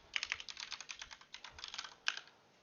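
Keys on a computer keyboard are typed in a quick, uneven run of crisp clicks, close and clear, with one harder keystroke near the end and no speech over it.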